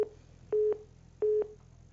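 A telephone busy tone after a call is hung up: two short, evenly spaced pairs of steady beeps, clear and isolated over faint line hiss.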